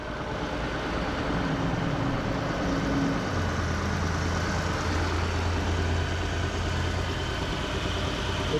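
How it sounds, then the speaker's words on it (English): A white 2018 Chrysler Pacifica Hybrid Touring L idles with its engine running under the hood, giving a steady, continuous low hum with no changes in pace throughout. "The engine's running. You can listen to it for a minute."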